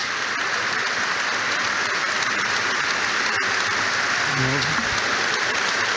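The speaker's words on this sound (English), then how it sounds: "The crowd are applauding for Konate at the back on the halfway line" Football crowd at a Liverpool versus Bournemouth Premier League match applauding, a dense continuous patter of clapping filling the stadium, with a commentator talking over it.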